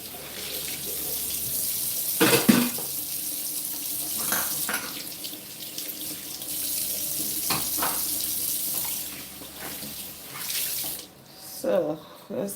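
Juicer parts are rinsed under a running kitchen tap, a steady rush of water splashing into a sink with occasional louder clatters and splashes as pieces are handled nearby.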